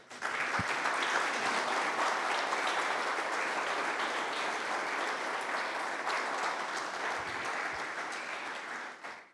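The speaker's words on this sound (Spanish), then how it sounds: "¿Le podemos dar un aplauso a eso?" A church congregation at a Reformed service applauds steadily, a sustained wash of many hands clapping at moderate loudness for the whole span, without speech.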